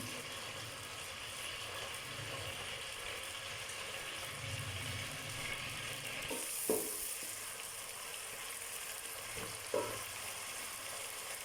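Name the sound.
onion frying in a pan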